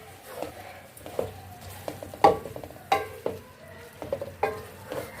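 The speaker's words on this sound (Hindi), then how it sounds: "कचनार को भी मसाले में अच्छे से हम इसको भून लेंगे।" Kachnar buds fry in masala under a low sizzle while a spoon stirs and scrapes the pan in irregular clanking strokes, close by and with no voices.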